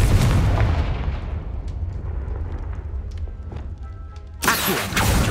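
Deep booming blast of the Confringo fire spell in Hogwarts Legacy, a loud explosion fading into a long rumbling tail before a second sharp burst near the end.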